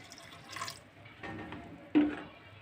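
About a glass of water is poured onto washed, soaked rice for kheer, with soft splashing that builds to a brief, louder pour near the end, faint and close.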